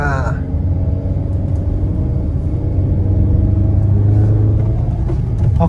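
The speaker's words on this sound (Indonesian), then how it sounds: "Jadi tekniknya itu kita lambungkan dulu RPM-nya atau gasnya kita kencangkan dulu ya." A manual car engine in first gear on a steep uphill, revving with a steady loud rumble that builds slightly before a gear change, with someone talking over it.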